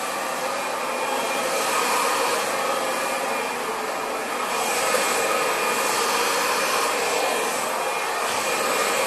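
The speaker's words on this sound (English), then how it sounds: "I'm going to do it really big, just so you can see what you can achieve just by simply blow drying the hair." A hair dryer blow-drying above-shoulder-length hair, a continuous loud whooshing hum with gentle swells in airflow as the nozzle moves, heard alone without talk.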